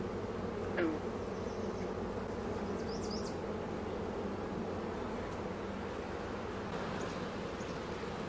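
Honeybees buzz steadily in an open beehive during a hive split, a dense, continuous drone that fills the whole stretch with no talking.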